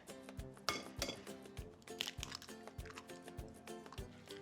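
A utensil mixes a filling bound with egg and crushed pink peppercorns in a bowl, tapping and clinking against its sides in a quick, steady rhythm, soft and close, with no voices.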